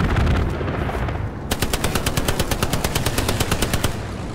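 Covering machine-gun fire in the game Hell Let Loose: loud, close, rapid automatic bursts with an even rhythm following a rumbling start, no voices.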